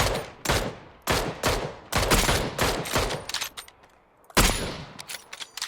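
Gunfire in a PUBG match comes in loud, close bursts of rapid shots, several separate volleys with short gaps between them and a final burst after a pause.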